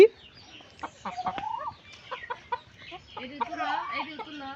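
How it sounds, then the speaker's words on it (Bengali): A rooster clucks and squawks in short agitated bursts while being caught, close by, with people talking over the commotion. "বাবা ওইটা কার মুরগি ধরছ? মোরগ কার"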